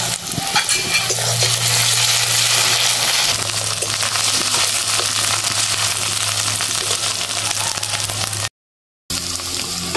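Ginger garlic paste frying in a pan with onion and tomato for a chicken curry with elephant foot yam, a loud, steady close-up sizzle with stirring scrapes and a brief silent gap near the end.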